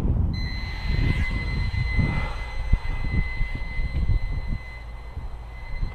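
A Walkera QR Ladybird V2 ultra micro quadcopter whines with steady high-pitched motor tones, accompanied by low rumbling handling and bumping noises nearby, with no voices.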